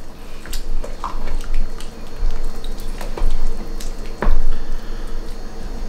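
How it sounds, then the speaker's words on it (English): Venison chili with drained canned corn gets stirred in a pot, giving a close, continuous thick squelching and wet scraping with small splats, and no talk. "Stir it up."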